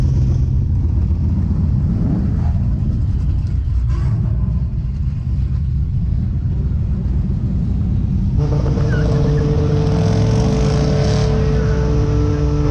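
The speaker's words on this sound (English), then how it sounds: "Oh yeah, that one wheel peel." A 6.0L LS-swapped OBS pickup at a quarter-mile drag strip rumbles loudly, then launches hard with a one-wheel peel, the engine roaring up with a rising rev close by and filling the whole stretch.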